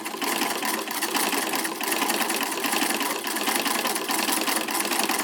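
An antique Bendigo treadle sewing machine stitches fabric in a loud, continuous close-up whir with a fast, even needle rhythm that runs steadily throughout.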